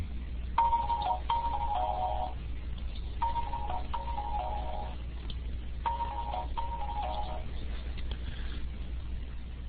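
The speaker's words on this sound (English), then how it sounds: "Hang on, my computer's ringing" A computer ringing with an incoming call: a repeating electronic ringtone pattern in three spaced bursts of quick chirping tones, moderately loud, over a steady low hum.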